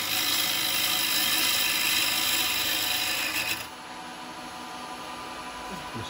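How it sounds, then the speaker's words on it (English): A wood lathe spins while a carbide chisel takes a big cut into wood turned into a small hat, giving a loud continuous rasping scrape that eases to a quieter whirr of the spinning lathe near the end. "I'm going to take a big cut there, guys. But look, total control."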